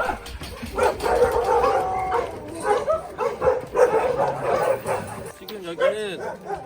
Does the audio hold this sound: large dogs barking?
yes